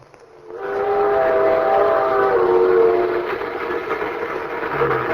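A ski train rolls steadily in a vintage radio drama, a loud sustained rumble with a long multi-tone whistle sounding over it early on, no voices.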